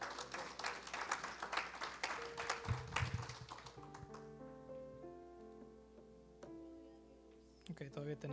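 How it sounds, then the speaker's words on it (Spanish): An audience gives a round of applause, a burst of clapping that fades into a sustained musical tone, with a voice speaking over it. "¿Cuántos pueden dar un fuerte aplauso a Él?"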